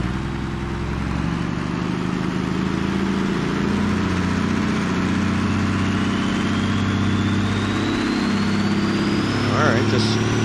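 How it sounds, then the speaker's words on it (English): A drag car in the BeamNG driving game does a burnout, its engine droning loud and steady at high revs with a faint rising whine across the whole stretch. "Let's do a little burnout."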